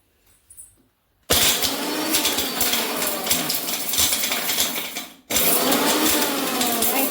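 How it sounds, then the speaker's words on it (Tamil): A mixer grinder grinds dry ginger with a small pinch of salt, starting after a brief pause with a loud, steady whirring roar. It cuts off for a moment, then resumes at full volume, close and with no talking. "இங்கே பார்த்தீங்கன்னா சுக்கு எவ்வளோ அழகாக அரைப்பட்டுச்சு"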